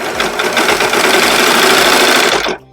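A serger sewing machine stitching unpaper towel fabric runs at a loud, steady fast whir with a rhythmic mechanical thump, close-up and alone, then stops abruptly near the end.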